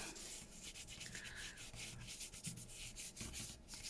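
A sponge rubs across a junk journal page decorated with winter botanicals, giving soft, faint scratchy strokes in an irregular rhythm, close up and alone.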